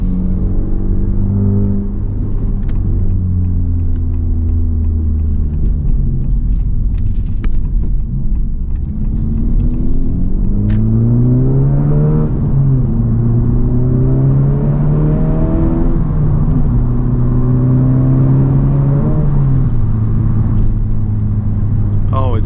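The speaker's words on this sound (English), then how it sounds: "I know you can hear that exhaust." A 2023 Honda Civic Type R's exhaust roars and drones steadily as the engine revs and pulls up through the gears in +R mode, loud and close, with talking over it.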